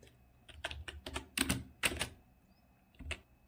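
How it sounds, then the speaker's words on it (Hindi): Sparse clatter of keystrokes on a computer keyboard as an address is typed into Tally Prime accounting software, irregular taps in small clusters, close and clear, with no talk. "तो हमने भी हमारा एड्रेस टाइप कर लिया है"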